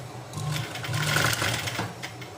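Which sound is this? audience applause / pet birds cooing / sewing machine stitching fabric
sewing machine stitching fabric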